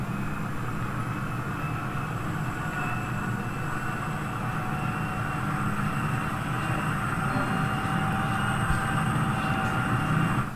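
Steady rumbling drone of a locomotive running in the train simulator Trainz, a continuous even engine and rail noise with faint tonal whine, no talk over it.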